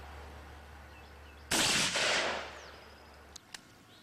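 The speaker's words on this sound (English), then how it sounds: "Finally, after many tries, the rifle fired 3 shots." A rifle set to full auto and loaded with three rounds fires out of battery in one sharp, loud, blended burst with a ringing decay, followed by a couple of small metallic clicks.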